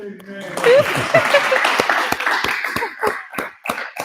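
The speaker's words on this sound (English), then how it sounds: "So, you could clap now." Scattered audience clapping follows talk at a lecture-style gathering, starting amid voices and thinning into a few separate, sharp claps near the end.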